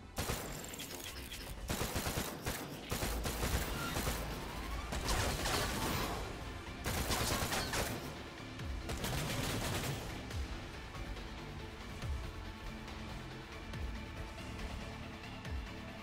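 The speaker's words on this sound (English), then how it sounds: "my first attempt at sniping an enemy from afar" Repeated rifle shots ring out during a long-range sniping attempt in a sci-fi alien-world video game, loud sharp reports spaced across the stretch over a dense bed of game sound and music, with no talking.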